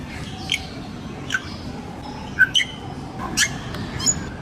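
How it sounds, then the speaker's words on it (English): Several short, sharp mynah bird calls in a row, squawks and whistled chirps spaced irregularly over a steady low background hum, fairly close and moderately loud. "Mynah bird."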